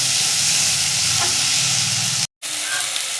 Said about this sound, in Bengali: টমেটো, আদা, রসুন, পেঁয়াজ সব একসঙ্গে আমি ভালো করে কষিয়ে নেবো একটু